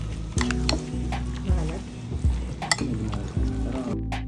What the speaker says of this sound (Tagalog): eto naman yung next, ang mayonnaise. Ayan guys, haluin din natin yan para mas lalong sumarap pa